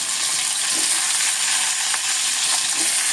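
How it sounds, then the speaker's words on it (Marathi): Green chillies frying in hot oil with mustard seeds, a steady close sizzle with faint pops now and then and no talking. "आता या मिरच्या घालायच्या मिरच्या चांगल्या तळल्या जाऊ देत"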